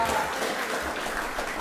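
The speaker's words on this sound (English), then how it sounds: "Give Marissa a round of applause for that." A crowd at an Oropouche East cottage meeting gives a round of applause for Marissa, a steady wash of many hands clapping together, fairly loud and close, with some voices mixed in.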